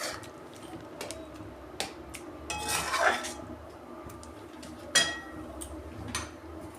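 Cooked vegetarian ghugni of chickpeas with chana masala being poured out of a pan, with faint sliding and a few sharp metallic clinks of a utensil against the pan over a quiet background.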